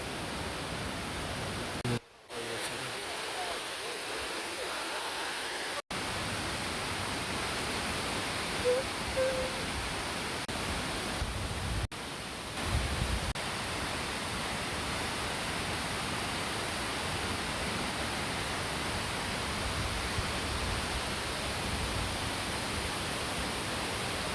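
Mantayupan Falls pours as a constant, dense roar of falling water, loud and close, filling the whole scene with unbroken broadband rushing and only brief dropouts.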